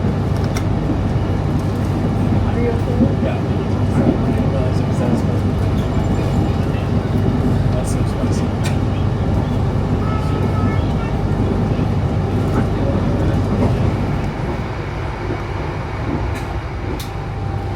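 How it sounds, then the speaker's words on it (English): Argo Wilis passenger train riding through Java, Indonesia, a continuous loud rumble and rattle of the carriage on the rails, steady throughout and easing slightly near the end. "This is the most beautiful train ride I think I've ever been on."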